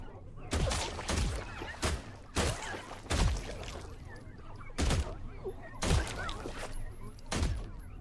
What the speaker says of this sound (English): Let me just shoot the hell out of all of you